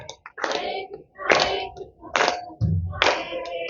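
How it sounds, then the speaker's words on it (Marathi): A group claps hands in steady rhythm during a devotional chant at a Vitthal temple wedding ceremony in Hupari, with four loud, close bursts of clapping about a second apart. "आनंदाचा दिवस आहे टाळ्या वाजवा"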